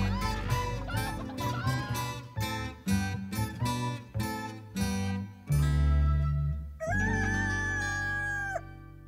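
Roosters and Pacific jungle fowl in Hawaii cluck and cackle nearby in loud repeated bursts, with a drawn-out call near the end.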